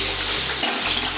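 Shower water runs steadily over a dog being rinsed during its first bath at home, a continuous close splashing spray with no voices.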